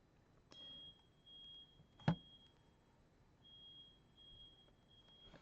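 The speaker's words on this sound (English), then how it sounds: "Sounds like a fire alarm." A distant smoke alarm chirps in a thin, high, steady tone that comes and goes in long stretches behind quiet room noise, with a brief thump partway through.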